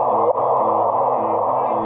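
Sonified gravitational wave signal from the first detection at twin observatories, heard as a steady tonal hum with layered harmonic bands and a brief dip near the start, continuous and fairly loud with no talk.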